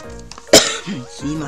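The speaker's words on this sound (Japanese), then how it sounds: "すいません、咳しちゃって。" A single sharp cough bursts out close and loud during a scrapbook-making session, surrounded by soft speech before and after.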